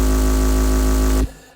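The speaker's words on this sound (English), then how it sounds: "let's kick off with a nice chunky bass sound" A chunky synth bass preset called Borg Blaster in Phase Plant sustains a loud, dense, gritty low tone with a buzzing, engine-like texture for over a second, then cuts off abruptly into a fading tail.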